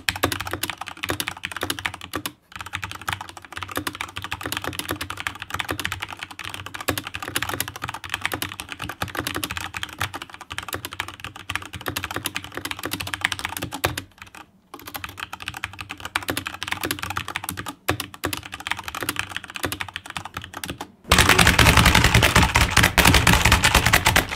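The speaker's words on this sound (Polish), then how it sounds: "Zróbmy test bez gumek." Fast, continuous typing on a mechanical keyboard without rubber O-rings, a dense clatter of clicky keystrokes running steadily and up close, with a brief louder stretch near the end.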